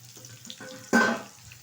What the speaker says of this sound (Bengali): পেঁয়াজটা একটু ভালোভাবে ভেজে নেব